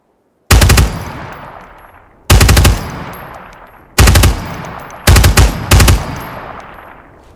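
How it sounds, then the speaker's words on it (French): Machine gun fire in the tactical shooter Ground Branch: five loud, close bursts, each a sharp attack that decays with an echoing tail, the last two coming in quick succession. "Mais elle est bien, hein, la mitrailleuse, là."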